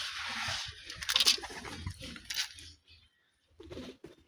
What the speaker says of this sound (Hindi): ये कबूतर दाने पे आ गए हैं।